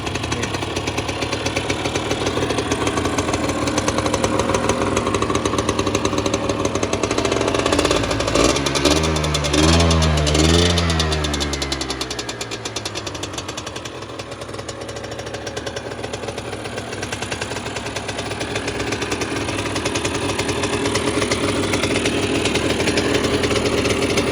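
A Honda MTX 125 motorcycle engine runs loudly with a rough, knocking idle, its pitch sweeping up and down midway before settling into a steady putter.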